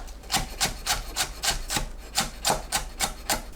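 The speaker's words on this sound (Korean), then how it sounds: "파를 썰어주세요." A knife chops green onion on a cutting board in quick, even strokes, about a dozen crisp taps close by with no talking.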